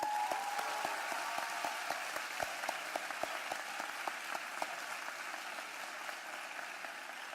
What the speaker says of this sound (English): I'll ask the graduates to applaud and thank the people who helped them get here